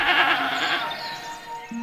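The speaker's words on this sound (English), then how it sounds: "said Jonathan to a mountain goat" A mountain goat bleats in a wavering, nasal cry, close and fairly loud, trailing off before a brief second note.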